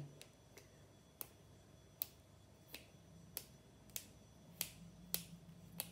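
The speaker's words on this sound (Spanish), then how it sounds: "Mientras haga el chasquido al doblarlo, ideal, es tierno." Green wild asparagus stalks snapping as they are bent by hand, a series of about nine sharp, dry cracks spaced roughly half a second apart, quiet and close with no talk.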